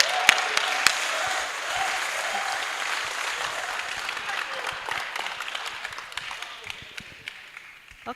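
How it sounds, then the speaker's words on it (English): A crowd at a university business competition grand finale applauds, steady dense clapping with a few sharp nearby claps, gradually fading toward the end, with no talk over it. "Please, let's give them a good round of applause."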